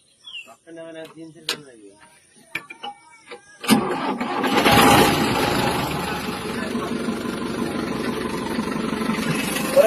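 A Swaraj or Sonalika tractor engine rumbles loud and broadband as the tractor pulls off slowly, starting abruptly after a few seconds of quieter knocks and distant bird calls, then holding a steady rough drone.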